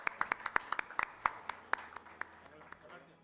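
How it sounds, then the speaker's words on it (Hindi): A handful of people clap at an award ceremony, with distinct sharp claps in a quick, uneven patter that thins out and fades within a few seconds. "जोरदार तालियां एक बार राजमाता गायत्री राजे पवार"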